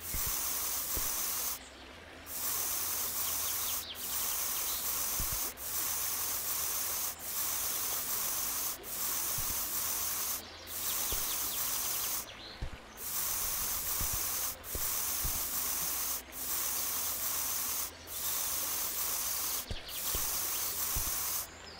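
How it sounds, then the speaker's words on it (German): Spraying in the restoration game Monuments Flipper while working on the Pont du Gard: a steady hissing spray that runs in long bursts, broken by brief gaps at irregular intervals, with no talking. "Warum wir da jetzt drauf sprühen sollen."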